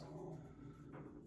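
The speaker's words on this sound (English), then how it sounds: "My dogs decide to bark just before the end of my video" Household dogs barking and whimpering nearby, a short burst of yips and barks over a low steady background hum, with no one talking.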